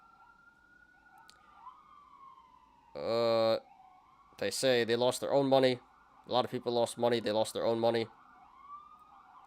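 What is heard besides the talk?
sirens passing outside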